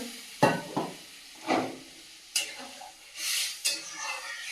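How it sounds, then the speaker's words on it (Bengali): Spoon scrapes and clatters against a pan of vegetables in several separate strokes, with a soft sizzle between them, close by and fairly quiet. "এখন সবজিটা ভালো করে কষিয়ে নিয়ে জল দিয়ে দিলাম"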